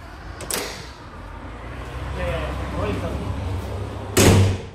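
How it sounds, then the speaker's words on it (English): An automatic public toilet door in a park slides shut, a hiss and rumble ending in a loud heavy thud near the end, close by over a steady background hum. "Door closed."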